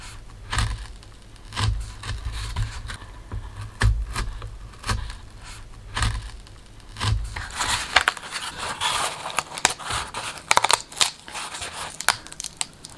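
Scissors cutting slices into a paper mache Basset Hound dog form, repeated crunching snips and crinkling paper at an uneven rhythm, close up and alone.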